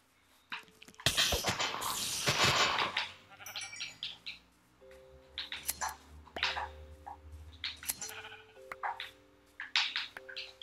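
Sheep bleating in Minecraft, several short cries scattered over game music and ambient tones, with a loud burst of noise near the start.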